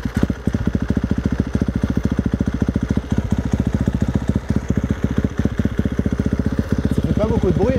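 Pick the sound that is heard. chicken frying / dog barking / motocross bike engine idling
motocross bike engine idling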